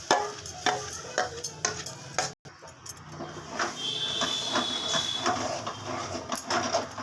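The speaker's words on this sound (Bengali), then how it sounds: "একসাথে মিশ্রণটাকে অল্প অল্প আগে এরকমভাবে নেড়ে নেড়ে পুরো একটা সন্দেশের ডো মতো তৈরি করছি।" Flour and sugar paste being stirred into mango sandesh dough in a pan, a series of soft scraping strokes with faint sizzling beneath, close and quiet with one brief break.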